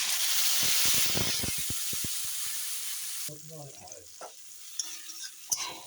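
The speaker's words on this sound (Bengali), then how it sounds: "টমেটো পেস্ট দিয়ে ভালো করে কষিয়ে নিই" Tomato paste hitting hot oil with cumin and cardamom for a chicken dish, a loud hissing sizzle with rapid spattering pops that fades into quieter stirring, scraping and a few clinks, with a brief voice.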